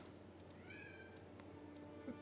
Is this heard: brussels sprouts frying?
no